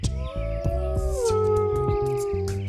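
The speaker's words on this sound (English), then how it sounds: "they're named for their unique howling calls. They sound at first like a wolf" A singing dog gives a long, wavering howl that slides down in pitch and then holds steady, close and loud, with some yips and shuffling noises underneath.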